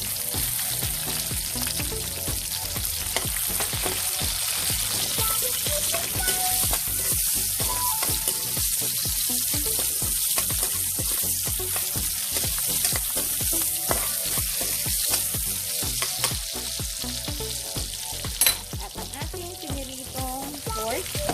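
Garlic and onion frying in hot oil in a pan for pork steak, a dense, continuous crackling sizzle with frequent sharp pops and spatters, steady throughout.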